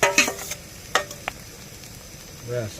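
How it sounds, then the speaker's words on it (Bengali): Fried onions being stirred into mashed flat beans, with a few scraping, clattering stirs early and a soft sizzle-like rustle, followed by quiet stretches and brief voice-like tones near the end. "ভেজে রাখা পেঁয়াজগুলো দিয়ে দিচ্ছি সিম ভর্তাতে"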